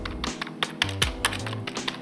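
Fingers tap quickly on a silent-operation computer keyboard, producing soft, muted clicks in an irregular rhythm, close and quiet with nothing else heard.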